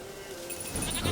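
A goat bleats briefly in The Witcher 3, a short nasal call rising over a soft ambient game background.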